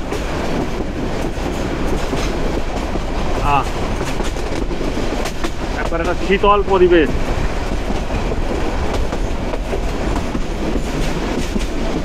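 A Balaka commuter train of Bangladesh Railway runs along the tracks with a steady close rumble and rattling wheel clatter heard from onboard, while a person talks briefly over it.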